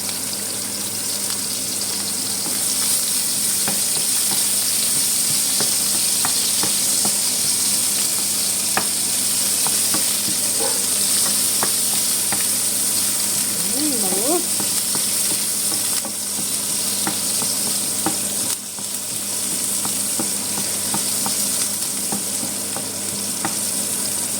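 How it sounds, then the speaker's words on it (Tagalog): Onions sautéing in plenty of oil in a pan, a loud continuous sizzle and crackle running unbroken throughout with faint occasional clinks, no talking. "Tapos, lagay tayo ulit ng mantika. Lamihan natin. Gisa natin yung sibuyas, guys."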